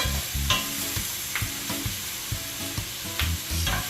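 Shrimp sautéing in coconut oil on a stovetop, a steady sizzle with repeated stirring scrapes and clicks of the utensil against the pan, close and even throughout.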